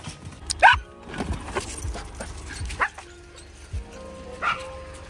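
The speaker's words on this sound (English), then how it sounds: "we're gonna take the dogs to the park so they can run around" Dogs out in a park late at night, with a few sharp yips and barks spread across the moment and soft whimpering between them, fairly close over a quiet background.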